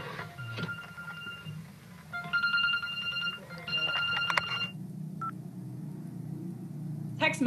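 A phone at a building site in Indonesia sounds a series of electronic notification tones, short beeping chimes in bursts, with a person speaking faintly in between.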